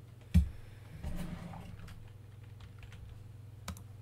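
Keyboard typing in a quiet room: a sharp key tap, then a few softer scattered keystrokes over a faint steady electrical hum.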